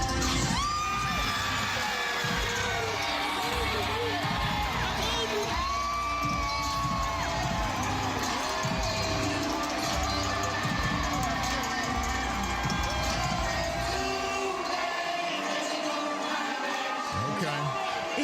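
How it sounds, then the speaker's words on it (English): A huge stadium crowd at the Swamp roaring and cheering as Morgan Wallen walks out on stage on a Friday night, with whoops and shrill shouts in a sustained, loud wall of noise. "here was the crowd reacting to Tim Tebow's Morgan Wallen was walking out on stage at the Swamp on Friday night"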